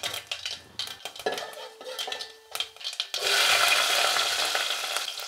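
Tempering in a cooking pot with oil, mustard seeds, cumin and fenugreek going in: metal clinks and scraping of utensils, then a sudden steady hiss of sizzling oil that fills the rest, close by.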